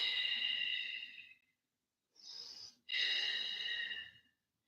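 During a flow-style yoga practice, a person takes slow, deep, audible breaths close to the microphone: a long exhale, a short pause, then another inhale and a long exhale, with no other sounds.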